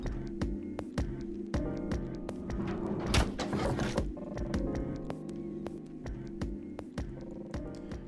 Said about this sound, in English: The door at the end of the room slowly ground open.